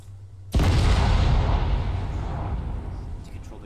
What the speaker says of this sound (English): controlled explosion is gonna go off in 5